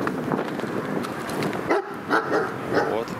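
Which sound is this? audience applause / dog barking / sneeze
dog barking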